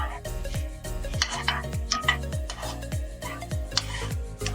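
Paneer in a pan gets stirred with quick rhythmic scraping of a spatula against metal, repeated clattering strokes under a light sizzle.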